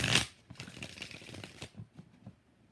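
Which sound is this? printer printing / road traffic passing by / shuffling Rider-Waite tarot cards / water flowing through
shuffling Rider-Waite tarot cards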